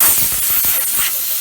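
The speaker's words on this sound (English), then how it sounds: "after each time, you need to blow it off with your air compressor to get all the residue off" An air compressor nozzle blows residue off a Volvo DP-C1 boat outdrive, a loud, close, rushing hiss of air in short pulsing bursts that trail off toward the end.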